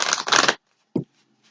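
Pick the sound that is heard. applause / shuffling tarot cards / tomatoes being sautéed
shuffling tarot cards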